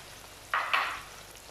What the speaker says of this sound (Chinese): 给它煎一煎。